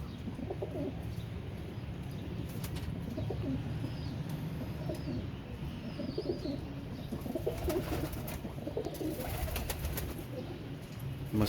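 Soft, repeated cooing of a pair of Teddy pigeons close by, low throaty calls rising and falling over faint background rustle.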